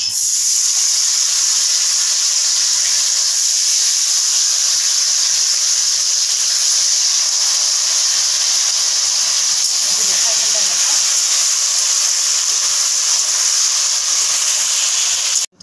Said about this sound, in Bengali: তেলটা গরম হয়ে গেছে, আমি এবার অল্প করে ছেড়ে ভেজে নেব